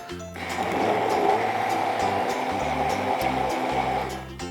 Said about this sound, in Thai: เราก็จะนำไปปั่นพร้อมด้วยกะทิ นม น้ำตาลทราย แป้งข้าวโพด และเกลือครับ